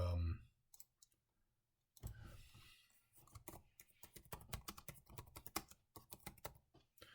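Rapid mouse clicks and keyboard typing while a form about a water well, pump and pressure tank is filled in on a computer, a quiet series of crisp, irregular taps after a near-silent opening.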